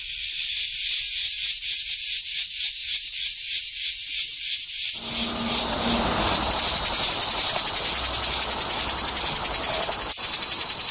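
Cicadas sing loudly and steadily, first in a pulsing, rhythmic buzz, then swelling into a continuous high, shrill drone.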